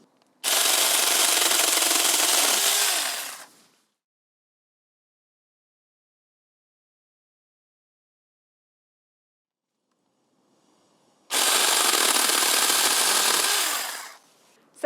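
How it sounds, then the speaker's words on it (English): A mini chainsaw cuts through tree branches in two loud, close bursts of about three seconds each, with near silence between them. "You can see that this mini chainsaw made pretty light work of that."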